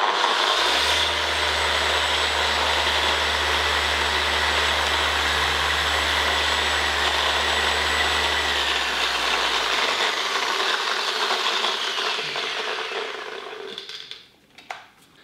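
A Flex XFE 7-15 150 long-throw dual action polisher runs at full speed, about 9,000 orbits per minute. It gives a loud, steady, high whirring drone with a low vibrating hum beneath, then winds down to a stop near the end.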